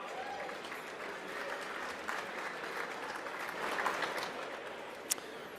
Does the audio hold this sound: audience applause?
yes